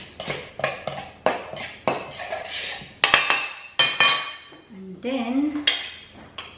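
Utensil clatters against a bowl while salt, fat and flour are mixed for a cheese and onion pie, a series of close, sharp clinks and scrapes in an uneven rhythm, with a voice speaking briefly near the end.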